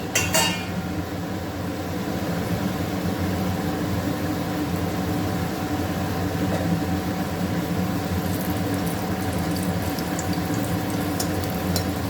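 Asafoetida roasts in hot oil in a pan while traditional coriander thuvayal is being made, giving a steady low sizzle and bubbling hiss that runs continuously, with a brief sharper crackle at the very start.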